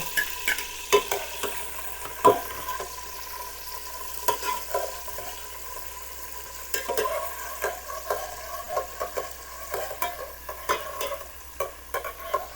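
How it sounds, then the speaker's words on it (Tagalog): Garlic sautés in a pressure cooker for beef mechado, a faint, steady sizzle broken by repeated scraping and clinking of a utensil stirring against the pot, close and without talk. "Magigisa tayo ng bawang,"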